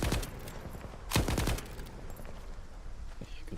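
Rapid bursts of gunfire from a heavy-recoil gun in a video game, a loud volley up front and a sharp cluster near the middle, then thinner scattered shots under faint background noise.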